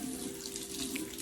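Tap water runs steadily into a sink to activate a cleanser bar, a close, continuous splashing flow with no voices.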